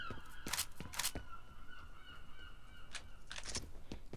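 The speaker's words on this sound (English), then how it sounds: "So many birds." A flock of geese in the video game F.E.A.R. honks several times in quick bursts, some overlapping, then again after a pause, faint against a quiet background hum.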